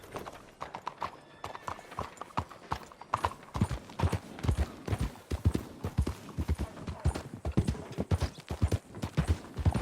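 Horse hooves clip-clopping at a steady walking rhythm in the video game Red Dead Redemption 2, close and clear, continuous throughout with no talk over them.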